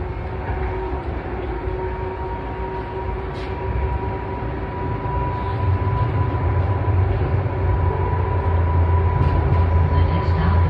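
A passenger train runs steadily, with a continuous low rumble and faint humming tones that grow slightly louder toward the end, and occasional light clicks over it.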